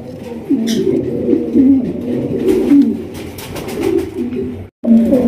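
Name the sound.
Baghdadi pigeon cooing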